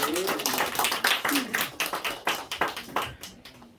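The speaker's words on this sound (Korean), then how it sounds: "우리 하나님께 영광의 박수" A church congregation at a Sunday afternoon worship service claps for God in celebration, a loose, uneven patter of hand claps with some voices underneath that tapers away toward the end.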